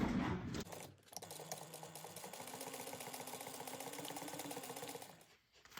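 A sewing machine top stitches a bag's lining and exterior together at an eighth-inch seam, running in one steady, fast, even whir for several seconds with a brief stop and start at each end.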